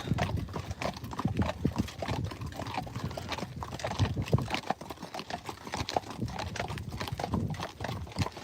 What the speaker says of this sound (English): They're all Friesian horses.